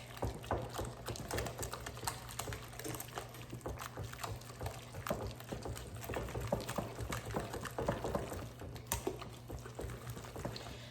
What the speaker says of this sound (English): I just go ahead and add them, 2 of them, and then I'm just gonna go ahead and whisk.